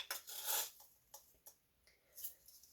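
A small measuring spoon clinks and scrapes inside a jar of toasted onion seasoning, a quick cluster of light metallic taps followed by a few softer isolated clicks, close and quiet.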